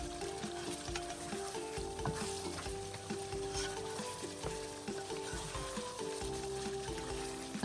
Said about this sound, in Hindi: तो फिर उनको भी चम्मच हिलाते हुए भून लेंगे।